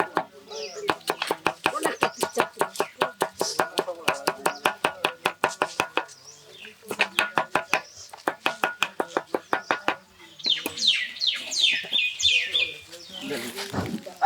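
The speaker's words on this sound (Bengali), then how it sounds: "মামা এখন একটা বোম্বাই মরিচ কাটতেছেন।" A knife chops a bombai chili pepper on a board in rapid, even bursts of close, sharp knocks, pausing briefly between runs, with birds chirping nearby toward the end.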